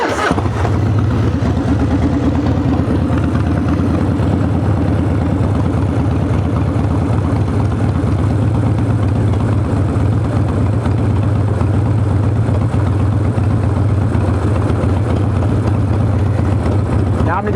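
A Harley motorcycle engine with a Lectron carburetor runs loudly and continuously up close during tuning, a dense low rumble that holds steady throughout without clear pauses.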